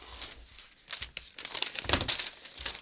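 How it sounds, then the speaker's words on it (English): Sewing pattern paper being cut with scissors while drafting a cowl neckline, a close, quiet run of crisp crinkling and snipping bursts that builds slightly toward the end, with no talking. "I'm just going to cut off this paper down here."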